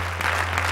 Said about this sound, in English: Come on and put your hands together as Pastor Dave comes